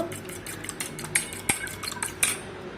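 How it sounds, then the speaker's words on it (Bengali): A fork beating a raw egg with a little salt in a bowl, quick irregular metallic clinks and taps against the bowl, close and fairly soft, with no voices. "এটা কাঁটার চামচের সাহায্যে আমি এটা ফেটে নেব"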